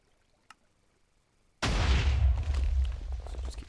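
After a faint click and a brief quiet, a Minecraft TNT cannon goes off with an abrupt loud boom whose heavy, low rumble carries on steadily to the end.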